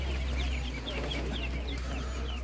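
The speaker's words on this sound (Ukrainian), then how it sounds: "Дуже великий вибір качок." Poultry at an outdoor animal market in Ivano-Frankivsk, where ducks are on sale, call in a steady stream of clucking and quacking over a constant low rumble of crowd and background noise.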